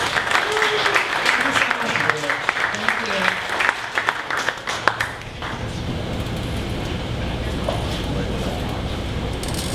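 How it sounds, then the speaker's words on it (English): Clapping breaks out from the audience at a 1 Million Cups Dallas startup meetup, a lively burst lasting about five seconds before giving way to a steady room hum with a voice carrying on. "One more round of applause for Muffin Else."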